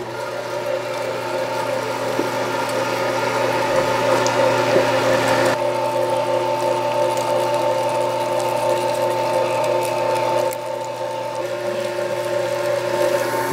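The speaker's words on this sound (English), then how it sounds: "Now after the meat's all done coming out of the grinder here" Meat grinder grinding venison, a steady mechanical whirring and droning hum with a faint ratcheting texture, running continuously at close range.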